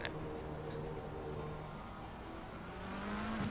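Race cars on an out lap warm up their tires, a steady droning engine whine that swells slightly toward the end, heard without any talking.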